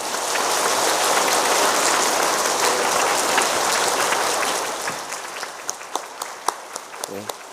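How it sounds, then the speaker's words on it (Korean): Warm congregational applause during a Sunday church service, a thick roar of clapping for about five seconds that thins into a few scattered, separate claps before fading. "뜨거운 박수로 우리 축하합시다"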